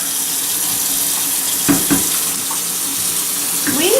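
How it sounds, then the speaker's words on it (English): Cold tap water runs steadily into a sink while raw chicken is rinsed for Indonesian chicken rendang, a loud continuous splashing rush with a few brief gurgles and knocks. "rinse the chicken with cold water"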